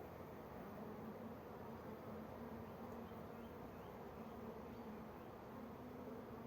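Honeybees drone in a dense, continuous hum around an open beehive during a gentle inspection, steady and close, with no speech.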